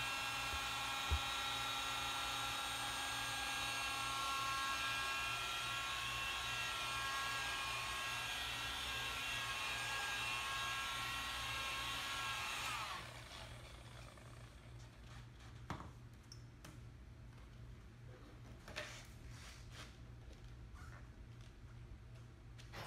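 Rotary polisher with a foam pad buffing the clear coat of a Corvette, a close, steady high whine that runs for about half the time and then cuts off, leaving quiet room sound with a few faint knocks.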